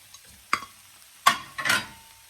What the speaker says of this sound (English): one final toss, you guys. We're just gonna mix that all in